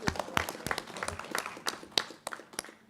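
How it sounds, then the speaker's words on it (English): Scattered applause at a school board of education meeting, a modest number of separate hand claps popping irregularly at moderate volume, sparse and uneven rather than a full ovation. "That should be a big round of applause"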